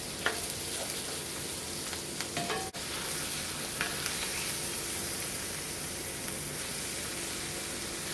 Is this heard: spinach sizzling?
yes